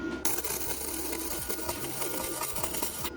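Cheap Harbor Freight welder laying a bead on a Ford Grand Marquis being fitted with a turbo, a steady close crackling buzz with sputtering pops running continuously throughout.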